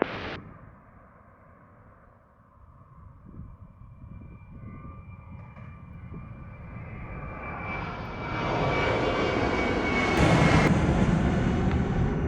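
An American Airlines jet lands at Montego Bay airport in Jamaica, its engine roar building from a low rumble to a loud, sustained rush as it draws near and passes, with no voices.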